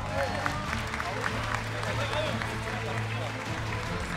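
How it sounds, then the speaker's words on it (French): An audience applauds a third-place team at a CS:GO esports grand final medal ceremony at Paris Games Week 2017, with clapping and crowd noise blending into a steady roar while people talk. "Vous pouvez applaudir très très fort"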